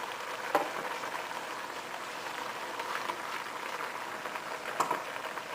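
Chicken and eggplant stew simmering in a pot, a steady soft bubbling and sizzling hiss with a few faint pops, heard alone.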